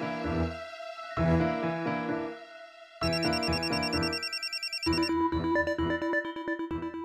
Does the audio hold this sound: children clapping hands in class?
no